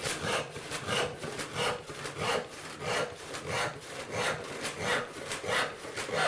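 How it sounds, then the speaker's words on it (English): A hand saw rasps through wood in steady, even back-and-forth strokes, about two per second, close and loud with no talking. "Now this is sawing really easily, very little effort required to make that cut"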